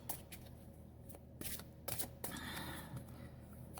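A tarot deck being shuffled by hand, with repeated papery riffles and soft slaps of the cards, close and fairly quiet, with no talking.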